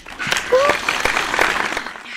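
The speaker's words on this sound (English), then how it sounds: "Insert clapping track here." Clapping sound effect played as a guest introduction on a podcast, a short burst of crowd applause with whoops, fading out after about two seconds.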